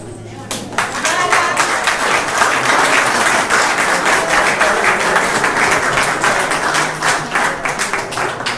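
An audience at the inaugural session of a town council in a hall claps after a short greeting, loud sustained applause rising quickly and continuing steadily for about eight seconds.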